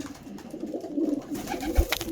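Racing pigeon cock cooing from a loft out back, a soft low rolling coo repeated steadily at moderate distance, with a brief thump near the end.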